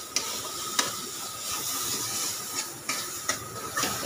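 Food sizzles and hisses steadily in a pan on a gas stove, with occasional sharp clicks and taps of stirring over the continuous frying.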